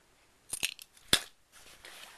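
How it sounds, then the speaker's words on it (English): Sharp embroidery scissors for cross stitching handled on a work surface, a few quick metallic snips and clicks close up, followed by a softer rustle, otherwise quiet. "Lots of sharp scissors."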